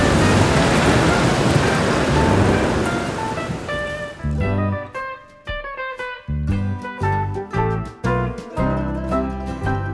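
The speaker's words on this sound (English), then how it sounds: "drive back with zero visibility and through the biggest downpour ever" Heavy tropical downpour during a drive in Chiapas, a loud dense roar of rain that drops away about four seconds in, giving way to irregular thuds and splashes with no voices.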